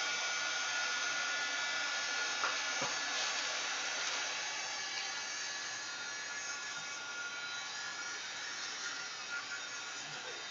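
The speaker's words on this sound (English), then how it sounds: "I gotta dry a little bit more again" A hair dryer blows steadily and close up to dry paint on an art journal page, a continuous broadband whoosh lasting throughout with slight changes in level and no voices.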